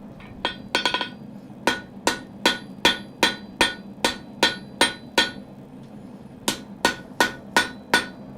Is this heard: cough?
no